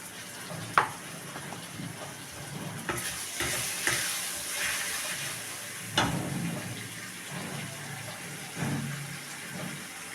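Spices and ginger-garlic paste stirred and fried in oil while making dhoka from lentils, a steady sizzle with scraping spoon strokes against the pan and a few louder clanks.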